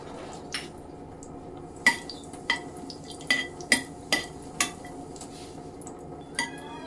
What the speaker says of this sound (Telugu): ఒక 5-6 జీడిపప్పు వేసుకొని ఫ్రై చేసుకోండి.